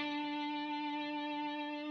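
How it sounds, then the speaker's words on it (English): A single sustained guitar note with a quick, shallow vibrato rings out clearly on its own for about two seconds, its pitch wavering only slightly. "So you can have a quick and a shallow vibrato"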